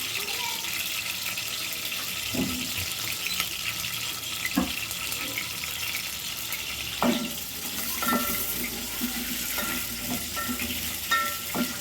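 Slit green chillies fry in hot oil with a steady bubbling hiss, while a few sharp metallic knocks and scrapes of a utensil against the pan ring out at intervals; faint background voices linger underneath.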